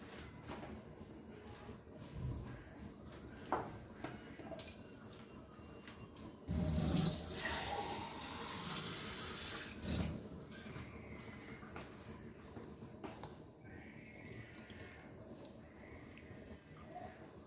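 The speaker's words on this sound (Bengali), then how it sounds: "এখন পানি দিব" Water pours from a tap into a beef fry batter bowl, a gushing stream of several seconds midway amid soft kitchen clatter and quiet handling sounds, no talk.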